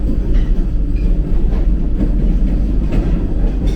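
A Vande Bharat train rumbles along the Konkan Railway rails between Mangalore and Madgaon, a heavy, continuous low roar and faint rhythmic clatter, loud and close, as if heard from inside a carriage.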